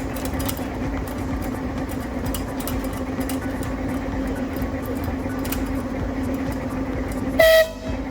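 A train rumbles steadily along the track with rhythmic clanks and a low drone, then a short horn blast sounds near the end.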